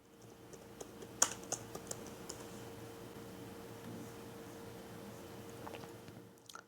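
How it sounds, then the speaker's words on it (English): A computer keyboard clicks as a search query is typed, the keystrokes landing in a quick irregular cluster early on and trailing into steady low room noise, near and soft, with no one speaking. "So let me type in Gojo anime."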